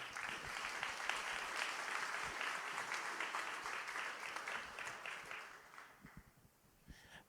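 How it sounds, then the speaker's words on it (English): A conference audience at an international investor forum applauds its speakers, a steady, dense wash of clapping that holds for several seconds before thinning out near the end. "let's thank them with a round of applause"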